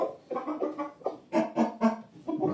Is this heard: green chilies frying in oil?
no